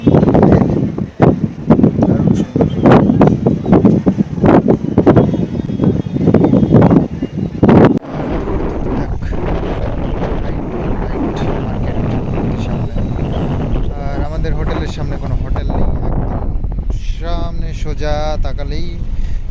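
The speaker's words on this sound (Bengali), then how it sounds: "দারুণ ঝড়ের মতন হাওয়া দিচ্ছে" Strong seaside wind at a hotel in Digha buffets the microphone in heavy, roaring gusts, with a voice speaking partway through.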